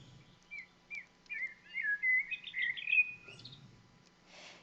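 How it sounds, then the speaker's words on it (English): Small birds chirp and whistle in a series of short tweets building into a brighter warbling run, fairly close and clear against a quiet indoor background, with no talking. "Yeah, I have some nice bird sounds happening."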